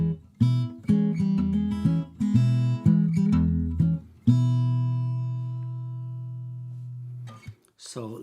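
An acoustic guitar miked close to the sound hole plays a run of short, choppy strummed chords, then one long ringing chord that fades, with a brief voice at the end.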